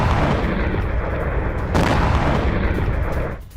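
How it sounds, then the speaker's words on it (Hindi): Iranian ballistic missiles intercepted and exploding in the sky: heavy, rumbling booms and blasts, dense and loud throughout, with a sharp fresh burst near the middle before the roar fades out. "अमेरिका ने 5 ईरानी बैलिस्टिक मिसाइलों को इंटरसेप्ट किया, आसमान में मार गिराया"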